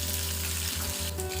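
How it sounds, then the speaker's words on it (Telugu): Onion pieces and curry leaves frying in hot oil, a steady close sizzle with faint stirring, uninterrupted and with no voices. "ముందుగా కట్ చేసి పెట్టుకున్న ఉల్లిపాయ ముక్కలు, కరివేపాకును కూడా వేసి దోరగా వేయించుకోవాలి."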